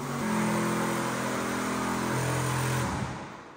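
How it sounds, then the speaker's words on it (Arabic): Mercedes G-Class engine revving hard and steady during a tire burnout, a loud sustained roar with shifting pitch that drops near the end. "فهنفرم الكاوتش على كل سرعات العربية بحيث إن إحنا نعبي الدنيا بخور"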